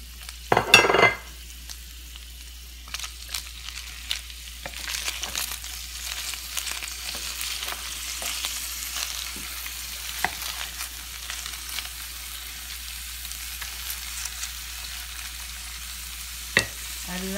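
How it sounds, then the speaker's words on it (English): Onions sizzle in a pan for a Ugandan beef stew, with a bright clatter as they go in, then steady frying and occasional stirring clicks, close and moderate. "I will add my onions right about now."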